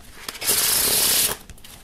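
Modiano plastic playing cards riffle-shuffled close up, a single bright, dense burst of rapid ticking flicks lasting under a second, with faint handling noise before and after.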